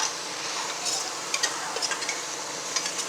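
Mint and coriander paste frying in a pan for kuska, a dense continuous sizzle up close with light scattered ticks of stirring, no voices.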